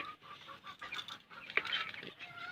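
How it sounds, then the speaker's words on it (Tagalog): Young Rhode Island Red chickens, about two months old, cluck and chirp softly in a backyard coop, faint, irregular short calls with no voices. "Ito naman yung tatlong Rhode Island Red namin na magto 2 months na mga idol"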